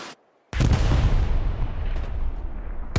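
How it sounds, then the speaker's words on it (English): Gunfire in the World War II shooter Hell Let Loose: after a brief quiet moment, a heavy, booming blast hits hard and rumbles on loudly, fading slowly over a few seconds. "I'm getting shot at"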